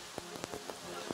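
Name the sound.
rain at outdoor archery competition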